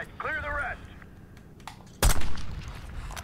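A loud sniper shot cracks once in a Call of Duty Black Ops 6 campaign battle, sharp and close, followed by a short echoing tail. A voice is heard briefly before it.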